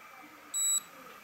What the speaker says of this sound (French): Équivalent de 1 à 2 bips.